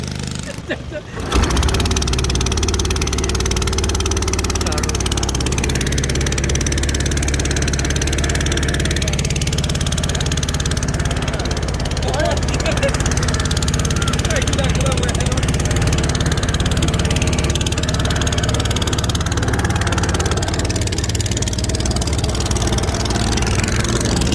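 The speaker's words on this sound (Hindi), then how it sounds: "और इंजन यहाँ पे इसके लगा हुआ है। इसको स्टार्ट करें।" A small motorboat engine on a lake at Fort Munro catches after a brief start and then runs at a loud, steady drone close by for the rest of the stretch, with people talking over it.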